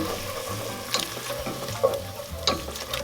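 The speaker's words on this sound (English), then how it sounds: "Whisking." A whisk scrapes and swirls in a pot over a soft simmering hiss, with a few brief clinks standing out, close and fairly quiet.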